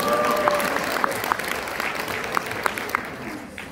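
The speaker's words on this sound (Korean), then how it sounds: "박수 해주시기 바랍니다." A modest audience at a talk on tariff policy and blockchain gives scattered applause, a few sharper individual claps standing out over a soft murmur before it tapers off near the end.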